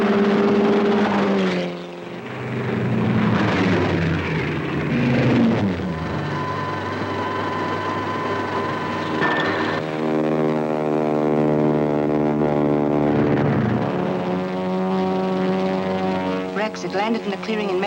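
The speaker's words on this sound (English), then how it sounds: "The robot plane is over the Coyote Hills, flying northeast." A robot propeller plane in flight, with a steady droning engine hum that rises and shifts in pitch, loud and continuous throughout.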